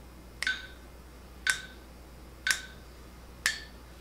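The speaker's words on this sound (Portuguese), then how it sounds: "eu posso fazer com o estalo do dedo" Four crisp finger snaps ring out at a steady one-per-second beat, each sharp and isolated over a quiet background, keeping time for a rhythm lesson.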